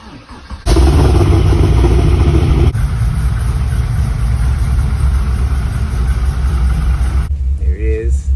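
Fast car engine cranks and catches with a loud burst, settling into a steady rumbling idle close by, then cuts off as a voice speaks at the end.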